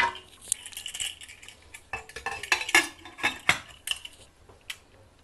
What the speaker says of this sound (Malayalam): ഇപ്പോൾ ഞാൻ കുക്കർ അടയ്ക്കാൻ പോവാം.